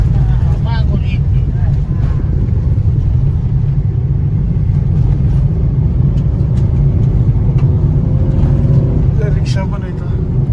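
Steady roadside traffic rumble with an engine drone passing close by, consistent with an auto rickshaw on the road, loud and continuous throughout.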